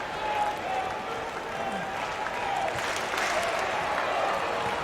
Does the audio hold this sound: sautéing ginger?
no